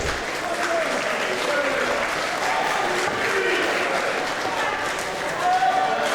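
Crowd at a women's professional wrestling championship match applauding steadily, a dense, continuous wash of clapping and murmur filling the hall, with some voices mixed in throughout.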